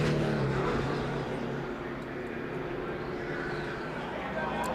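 NASCAR stock car, Mike Skinner's Army car at Indianapolis in 2003, roars past with a broad engine drone that swells and fades, heard under an announcer's commentary.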